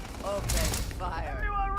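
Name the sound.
gunfire in the video game Starfield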